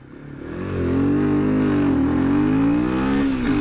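A Royal Enfield Himalayan motorcycle pulls hard in first gear, its engine note loud and close as it climbs steadily in pitch through the run.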